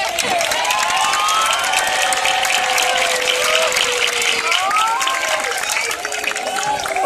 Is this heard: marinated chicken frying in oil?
no